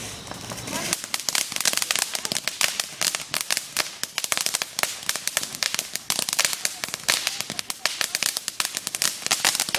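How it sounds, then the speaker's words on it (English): Fourth of July fireworks and firecrackers go off in a dense, rapid barrage of sharp cracks and pops, loud and nearly continuous, with faint voices in the background. "the fireworks that go up to the sky"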